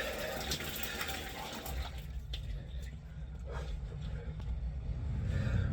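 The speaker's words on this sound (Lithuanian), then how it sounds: "Lauko dušas visgi yra super." Cold water from an outdoor shower runs in a steady, fairly close hiss and splash, with soft irregular spatters over a continuous low rumble and no speech.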